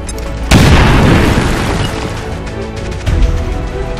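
Grenade explosion in XCOM 2, a sudden loud boom with a long rumbling decay, followed by a second smaller impact about two and a half seconds later.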